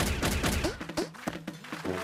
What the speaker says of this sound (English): Use your launcher to send some real bouncy balls.